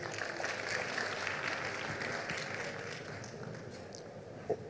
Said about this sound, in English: Thank you very much. A round of applause, please.